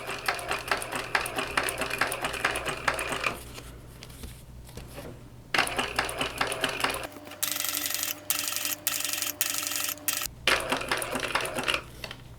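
Sewing machine stitching a zipper onto a fabric shoulder bag, its motor running in several steady bursts separated by short pauses, close and fairly loud with no talking.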